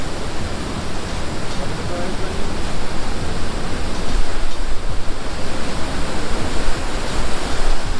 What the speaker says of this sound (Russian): А вот и сам водопад.